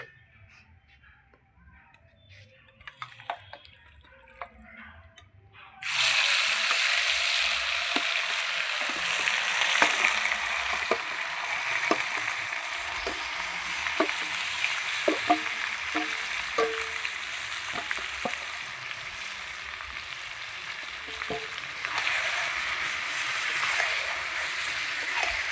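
After several quiet seconds with a few small clicks, goat meat hits hot oil in a pan and a loud, steady sizzle erupts, continuing for about twenty seconds with occasional light stirring taps.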